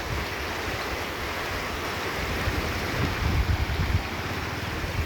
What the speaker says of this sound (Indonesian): Ini sungainya.